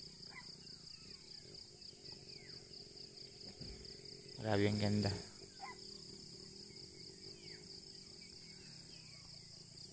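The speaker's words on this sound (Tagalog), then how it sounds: "Puro ingay ng mga ibon yung maririnig mo." Birds and insects calling steadily around a hillside campsite, a constant high insect drone with scattered bird chirps, and a brief louder burst midway as a voice speaks over it.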